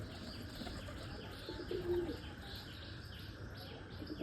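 Pigeons coo softly in a steady rooftop setting, a brief louder burst of cooing near the middle over constant background noise, with faint chirps and wing flaps.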